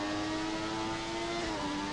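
A modern F1 car engine in the F1 2017 video game holds a loud, steady high-pitched whine, shifting pitch slightly as the revs change, close up and with no talking.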